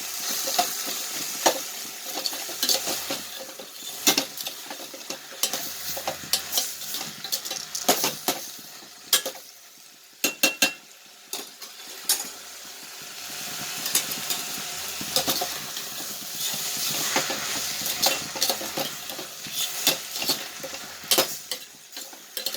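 Onions and tomatoes sautéing in sesame oil for fenugreek kuzhambu, with a steady nearby sizzle and frequent sharp scrapes and taps of a ladle against the pan throughout.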